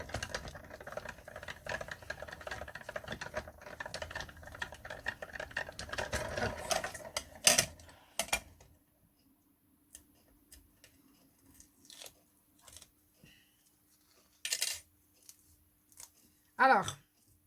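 A cutting machine works over a glitter sticker sheet, giving a dense crackling buzz that stops about halfway, followed by sparse clicks and rustles while someone talks.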